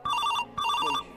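A telephone rings in two loud, close electronic trills with a short gap between them, alone and with no talking.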